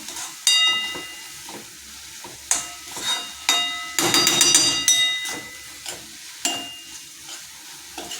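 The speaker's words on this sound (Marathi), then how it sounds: "तर आता मी याच्यात सुकट टाकत आहे तर हे सुकट टाकलं आपण छान असं मिक्स करू" Dried shrimp (sukat) being stirred into a bhaji in a hot pan: a series of sharp spoon scrapes and clanks against the metal over a continuous oily sizzle, with a busier run of strokes midway.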